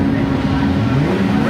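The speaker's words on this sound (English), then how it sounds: "You can tell they're normally aspirated because they're right on the limiter." Normally aspirated rallycross cars hold their engines on the rev limiter on the grid at the start of a World Rallycross round at Lydden Hill, a loud, dense, buzzing drone with a commentator talking over it.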